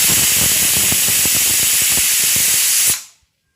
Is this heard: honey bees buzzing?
no